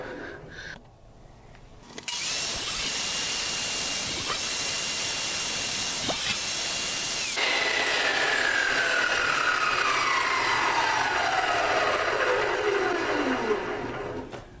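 Circular saw blade slicing through wood while building a double nuc beehive box; a loud, steady high whine runs for several seconds and then drops in pitch as the cut finishes and the blade spins down.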